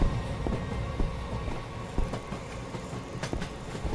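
Train in a horror video game rolling along with rhythmic clickety-clack thumps over a steady rumble, plus metallic squeaks, a continuous loud ride without talk.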